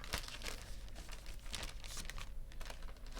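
Paper wrapping crinkles and crackles continuously as a parcel from a haul is unwrapped close up, with dense rustling bursts and no talking.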